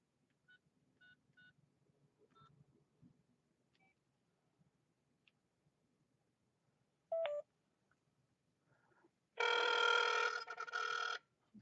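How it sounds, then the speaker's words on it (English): A phone call being placed: a few faint dialing tones and short beeps, then a loud, steady burst of ringback tone near the end, with no talking. "So I'll dial this."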